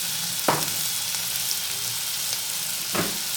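Chopped carrot and potato pieces frying in oil in a pan for a vegetable pulao, with a steady broadband sizzle throughout and two brief scrape-like stirring accents, one near the start and one near the end.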